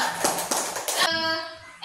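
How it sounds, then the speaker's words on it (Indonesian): Children in a classroom give a few quick rhythmic claps in unison, sharp and close, followed by a voice speaking. "Tepuk tangan dulu"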